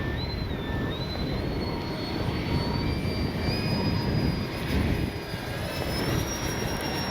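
An FMS 70mm A-10 Thunderbolt II V2 RC jet with landing flaps makes a low, slower pass, its ducted-fan roar steady and fairly loud throughout with a thin high whine over broad rushing noise.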